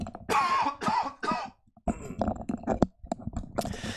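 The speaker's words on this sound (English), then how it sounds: "I'm sorry, I have to cough real quick." Several harsh coughs close to the mic, followed by throat-clearing sounds and a few more rough coughs.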